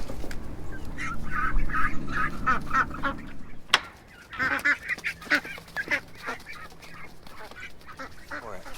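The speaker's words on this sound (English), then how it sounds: "Next, we're gonna let the baby ducks out." A group of baby ducks quacks and honks in a busy, overlapping chorus, close by, with a brief pause midway before the calls resume.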